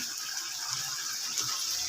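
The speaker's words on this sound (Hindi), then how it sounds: "हल्का पानी और जाएगा" Water poured into a cooking pot of greens in a home kitchen, a steady splashing gush that runs continuously at close range with no talk.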